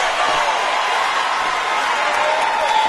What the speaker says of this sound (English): The crowd comes alive every time there's some space here between these two gentlemen.